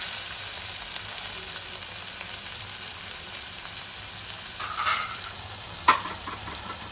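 Tomatoes sizzle steadily in a hot pan for a Marathi ridge gourd (shirala) bhaji, a constant close frying hiss with a brief stirring clank near the end and no voices.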